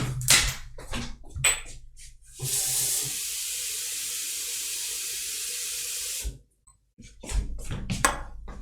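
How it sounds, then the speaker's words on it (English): A water tap runs steadily for about four seconds, filling a water bottle at close range, with short clunks and handling noises before and after the flow. "I actually want to fill up my water."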